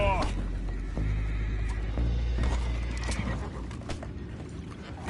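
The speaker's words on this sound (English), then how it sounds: "go find out about those horses down below" Horses in a video game whinny in several shrill, wavering calls around a ship scene, with clopping hooves and game voices talking over and between them.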